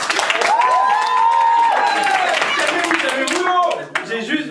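A large crowd at a comedy show in Bercy applauds and cheers loudly and steadily, with a voice carrying over the clapping before the noise dips near the end.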